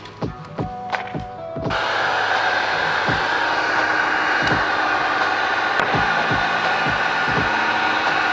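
A heat gun blows a steady, loud hiss while post-heating vinyl wrap on the rear bumper of a widebody Subaru STI hatch. The hiss runs almost the whole clip, and dull thumps and knocks come before it and beneath it.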